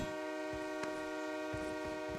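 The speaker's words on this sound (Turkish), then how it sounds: "Tren tren tren tren" A train in the video game PUBG rumbles past, a sustained mechanical drone with tonal whine and repeated rhythmic clacks from the wheels, moderately loud and steady throughout.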